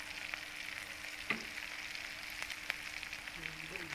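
Shallots and celery sautéing in a pan for seblak, a steady soft sizzle with a few sharper pops and a light stir or clink mid-way, close and continuous with no talking.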